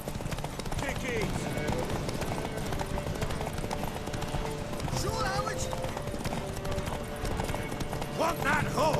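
Horse hooves clip-clop steadily in The Witcher 3 video game, mixed with a busy game soundscape, while voices talk over the hoofbeats.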